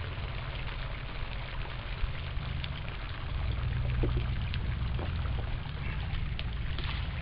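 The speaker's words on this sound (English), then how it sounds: "pour your hominy right in there." Water pours steadily over hominy in a colander for rinsing, a continuous splashing rush with a heavier surge midway, loud and close with no talking.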